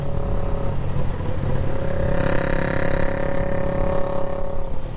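BSA A10 650 twin-cylinder motorcycle engine running steadily, a loud, close, mechanical throb with clattering valve-train texture and a constant idle rhythm, heard alone.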